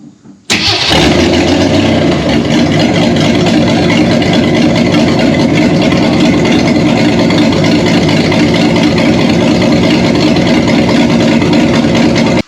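A Ford Econoline Travel Wagon engine, revived after 15+ years with carburetor and timing work, catches with a sharp start and then runs loud and steady at a close, even idle with a rough low rumble throughout.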